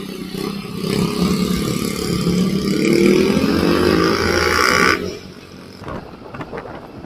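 A small 150cc FKM Labi 150 motor scooter engine revs up to a sustained high whine for a few seconds, then drops back to a lower idle.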